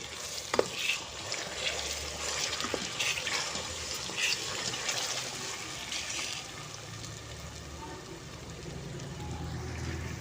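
Atta halwa stirred and browned in a pan over caramelized sugar, a continuous close sizzle with scraping stirs and occasional clinks throughout.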